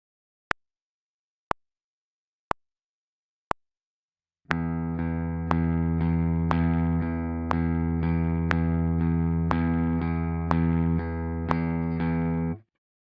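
Four sharp metronome clicks count in, then a guitar holds a steady picked note in an alternate picking exercise for about eight seconds, with the metronome ticking once per beat underneath.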